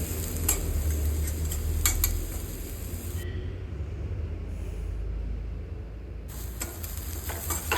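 Chopped spring onion leaves for a Kerala thoran are stirred and pressed in a hot pan, giving a steady soft sizzle with light scraping and ticks throughout.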